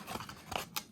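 Large scissors snipping through a book page, a few quick crisp cuts close by and fairly quiet.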